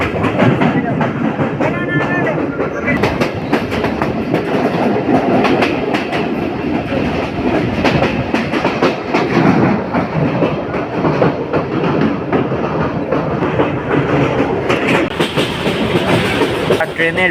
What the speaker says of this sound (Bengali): তো আমাদের ট্রেনটি ছুটে চলেছে মাঠের পর মাঠ ভেঙে ছুটে চলেছে